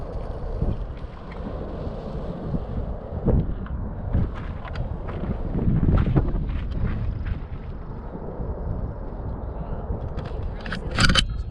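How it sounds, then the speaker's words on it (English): Wind buffets the microphone at an overlook in the Black Canyon of the Gunnison, with a continuous low rumble, gusts swelling and fading, and a few faint scrapes and clicks nearby. "Nice breeze, hold on to your hat."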